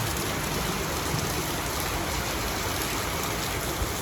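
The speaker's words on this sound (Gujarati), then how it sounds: "અત્યારે જો હું તમને બતાવું વરસાદ કેવો છે" Steady, dense rushing of rain falling continuously, a broad even hiss with no pauses or voices.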